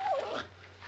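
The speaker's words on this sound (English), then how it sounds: "If you ain't the beatenest dang dog I ever seen" A dog gives one short, high whimper that quickly trails off, fairly close, followed by quiet room hum, in an old 1960 Western television scene.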